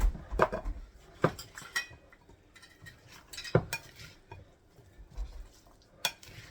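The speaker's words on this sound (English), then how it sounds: "you're going to stir that and get it all mixed together" A spoon stirs seasonings through a chicken and potato casserole in a dish, giving intermittent scraping clinks and knocks against the sides at an uneven rhythm, close and fairly quiet.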